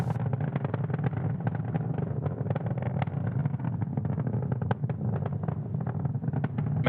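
A SpaceX Falcon 9 rocket climbs during the Astra 1P/SES-24 launch, its engines giving a continuous, crackling, rumbling roar that stays steady and fairly distant, with no voices over it.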